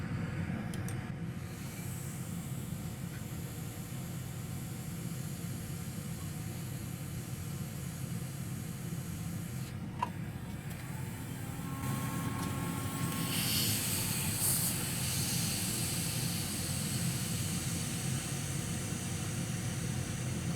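A hot air rework station with a narrow nozzle blows heated air onto a liquid-damaged Nintendo Switch circuit board, making a continuous soft hiss that runs for about twenty seconds and grows slightly louder toward the end.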